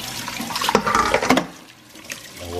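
Hot water runs from a tap into a sink that is being stopped up: a loud, splashing gush for about a second and a half, then it fades to a softer trickle.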